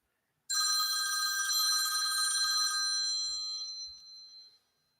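A telephone bell rings loudly and continuously for about four seconds with a bright, metallic trill, then fades and stops, with faint soft knocks underneath.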